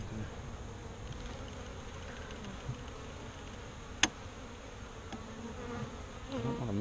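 Honeybees swarm and buzz steadily inside an opened active hive, a dense continuous drone with one sharp click partway through and some handling noise near the end.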